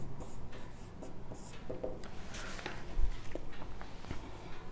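Chalk or pen writing on a board or paper during a Class 10 geometry lesson on similar triangles: continuous scratchy strokes with short pauses, close and moderately quiet, with no talking.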